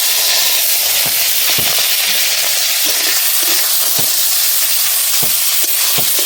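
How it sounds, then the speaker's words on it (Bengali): Prawns frying in leftover oil in a pan after cauliflower and potato were fried, giving a steady close sizzle and hiss with scattered sharp pops and crackles throughout. "এই তেলেতে আমি চিংড়ি মাছগুলো ভেজে নেব।"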